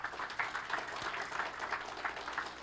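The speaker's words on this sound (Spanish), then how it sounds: "Denle un fuerte aplauso a nuestro Dios." A church congregation claps steadily and loudly through the whole stretch, with a dense, continuous patter of many hands and a brief low thump partway through.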